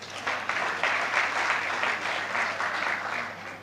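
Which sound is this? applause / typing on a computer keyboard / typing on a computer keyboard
applause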